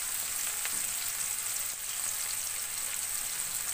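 Onions for a chicken curry fry in a pan with a steady, close, hissing sizzle that holds even for several seconds, with no talk over it.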